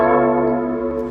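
A lo-fi guitar plugin set to its normal EQ profile plays a brief sustained chord, rich and steady before slowly fading, heard alone.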